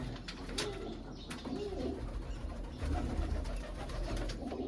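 A loft of pedigree pigeons, various breeds including red Chinese birds, keeps up a low rolling coo for several seconds, overlapping calls near and clear with faint clicks and no voices.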